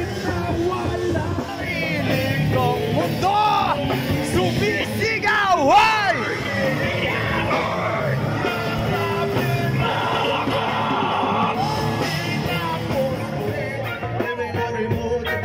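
Crowd at a year-end party with motocross and a live band shouting and yelling over music and babble, with a loud burst of shouts near the middle; voices talk within the noise.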